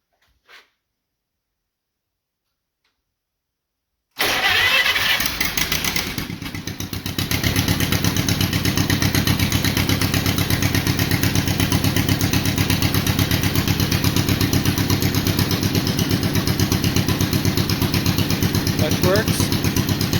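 A restored John Deere LA lawn tractor cranking and catching after a quiet pause, then settling into a steady, loud, close idle with a rapid, even chug.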